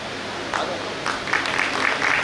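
Clapping from an event audience swells in short bursts, a steady patter of many hands at moderate distance with no voices.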